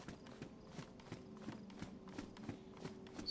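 Heavy working boots thud in a steady walking rhythm in the video game DayZ, each step a dull clomp, faint and distant, closely resembling slow hoofbeats.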